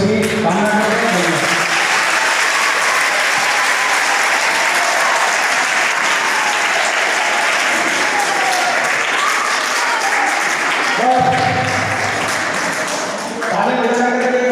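Students at a school workshop clap together in loud, sustained applause that runs steadily for the whole stretch, with a few voices faintly audible beneath it.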